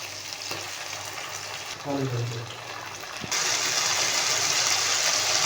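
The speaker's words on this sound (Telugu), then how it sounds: "బాగా ఫ్రై అయిన తర్వాత అల్లం పేస్ట్ అనేది యాడ్ చేసుకోవాలి" Tomato and ginger paste frying in a pan for methi chicken curry, a steady close sizzle with stirring scrapes, and the hiss grows brighter and louder partway through; a brief voice is heard in the middle.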